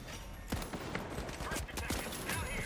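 Rapid bursts of video game gunfire crackle in a dense, uneven volley of sharp shots, moderately loud over a constant busy background.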